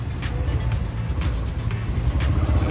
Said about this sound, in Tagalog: Ayan, nandito na yung truck for delivery.